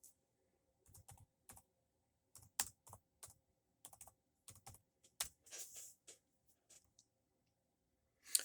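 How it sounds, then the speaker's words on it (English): Scattered bursts of typing on a computer keyboard, irregular clusters of clicks with short pauses, close and fairly quiet, with no talking. "Let me type that in."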